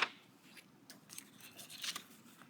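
Paper being cut with a trimmer for a scrapbook page layout: quiet, close crisp slicing and rustling strokes in short bursts, alone without talk.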